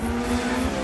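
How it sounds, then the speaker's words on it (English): Drifting race car in the Need for Speed video game, engine droning with a steady high revving tone and hints of tire squeal, loud and close with no talk. "this car sounds sexy though"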